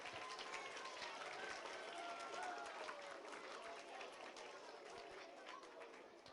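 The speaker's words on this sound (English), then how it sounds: "Let's give Polk a round of applause." Faint, distant applause from a school event audience for the second-place school, steady clapping mixed with crowd murmur and chatter, fading slightly at the end.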